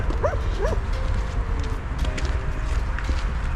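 Stray dogs on a street in Sofia, Bulgaria, give a couple of short, close yips or barks early on, then fall quiet against steady outdoor traffic and street noise.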